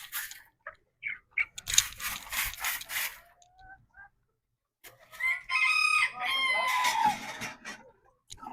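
Rooster crowing and hens clucking close by, with a burst of crowing early on, a short pause, then a longer stretch of crowing and clucking with faint rubbing sounds underneath.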